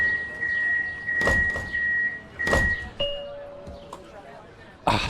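Tram doors open in the City Transport Simulator video game: sustained chime tones sound alongside several sharp mechanical thunks and clunks, with a voice talking over the sequence.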